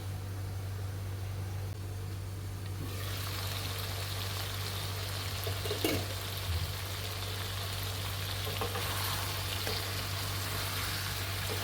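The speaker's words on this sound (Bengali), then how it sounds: "মাংসগুলো ভালোভাবে ভুনা করতে হবে যাতে মশলার কাঁচা গন্ধ না থাকে" Marinated chicken for a korma cooks in a covered pan, giving a steady broad hiss like running water. The hiss swells after a few seconds and holds with a soft clunk midway, and nobody talks.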